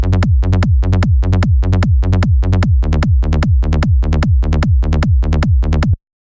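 A trance low end of punchy kick drums locked with a pulsing bass line under glue compression, a steady four-on-the-floor rhythm that stays loud and dense for about six seconds, then stops abruptly.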